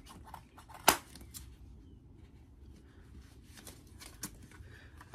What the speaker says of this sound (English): I actually am gonna use my scissors